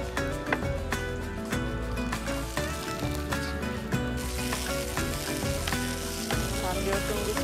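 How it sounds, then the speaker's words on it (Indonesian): Onion and red paprika sautéing in a pan, a dense steady sizzle with frequent spatula clacks and scrapes scattered throughout, close and fairly loud, with no one speaking. "Tumis bawang bombay"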